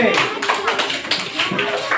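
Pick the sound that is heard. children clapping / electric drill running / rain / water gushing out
children clapping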